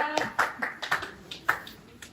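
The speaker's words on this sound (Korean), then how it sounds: "설명해주신 부장님께 박수 한번 보내드릴게요" A handful of claps from a small audience at a school admissions session, brief and uneven with a few sharp individual hand claps.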